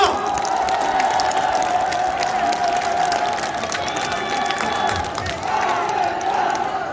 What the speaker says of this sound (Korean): 고생하는 우리 청년 후보님들께 다 같이 박수 한번 보내주십시오.